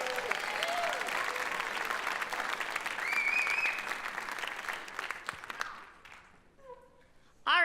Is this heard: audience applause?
yes